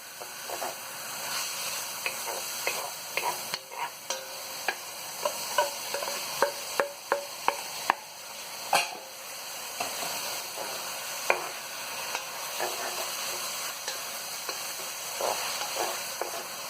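Onion frying with garlic and seasoning for a creamy chicken dish, stirred with frequent clicks and scrapes of a spoon against the pan over a continuous sizzle.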